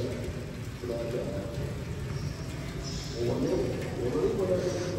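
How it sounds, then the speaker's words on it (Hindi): Rain falls on a mosque courtyard in cool weather, a steady soft patter and hiss with some louder drips, heard beneath a voice talking. "बारिश हो रही है, मौसम बड़ा ठंडा है"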